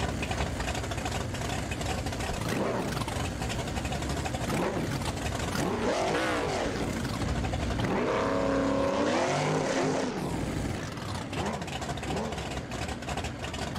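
A drag racing car in the BeamNG.drive video game, its engine revving hard and loud with rising and falling pitch sweeps as it accelerates, continuous and dense throughout.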